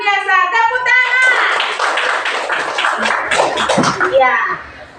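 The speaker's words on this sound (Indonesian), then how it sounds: "Tepuk tangan." Children's voices chant in unison in a classroom, followed by a burst of rhythmic group hand clapping, then a brief chant trailing off.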